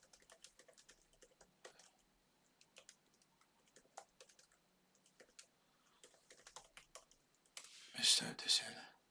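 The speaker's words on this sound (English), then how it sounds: "Hold on, I'm typing this in." Quiet, irregular clicking of computer keyboard keys in short bursts, close by, with a few louder sharp taps at the end.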